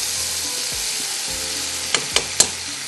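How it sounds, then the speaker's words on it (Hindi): Onions and garam masala frying in a pan for yakhni pulao, a steady close sizzle with a few quick crackles and spatula stirs near the end. "ये देखिए, थोड़ा सा इसको हम इस तरह से भूनेंगे।"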